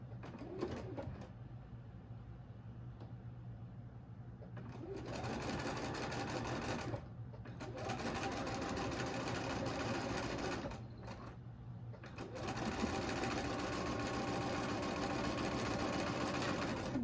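A sewing machine runs in steady bursts while quilt block rows are chain pieced, its fast needle hum rising and pausing between seams, close and clear with faint bird cooing behind.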